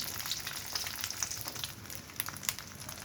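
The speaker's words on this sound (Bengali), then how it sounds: "তেল গরম হয়ে গেছে ওই তেলেই আবার ডিম ভাজিটা করে নেব" Beaten egg fries in hot oil with a steady, close crackle and fine popping sputters throughout, with no voices.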